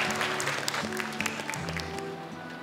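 Studio audience at the Hafiz Indonesia 2018 children's Quran memorization TV show gives a brief burst of applause, lively and dense clapping over soft background music that tapers toward the end.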